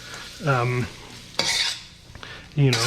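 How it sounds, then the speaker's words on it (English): White scallion pieces hit a hot pan for garlic noodles, setting off bursts of sizzling and the clatter of a utensil stirring, with squeaky, whining scrapes against the pan between the bursts. "I'm going to toss in the white parts of my scallions"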